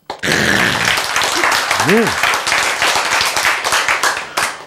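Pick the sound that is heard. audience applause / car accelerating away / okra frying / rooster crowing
audience applause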